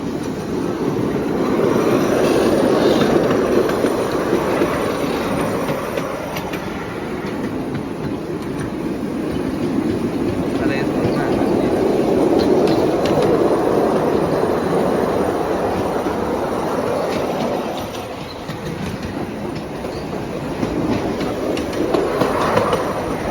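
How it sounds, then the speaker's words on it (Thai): A tourist train rumbles along toward a beach continuously with rattling wheels and clacking rails, loud and close, swelling and easing over twenty-odd seconds. "แล้วนั่งรถไฟไปถึงชายหาดเลย"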